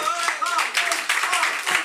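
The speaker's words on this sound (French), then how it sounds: "Applaudissements pour Cartouche, s'il vous plaît." Audience applause at a live slam poetry micro-conference, a burst of clapping from a small crowd that stays fairly steady for a couple of seconds with voices mixed in.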